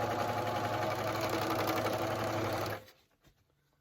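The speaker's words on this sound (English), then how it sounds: "Now I do mine on a serger and I use a 1/4 inch seam." A serger sewing machine stitching and trimming a quarter-inch seam on fabric: a fast, steady mechanical whir close by that runs for nearly three seconds, then stops, leaving a few faint clicks.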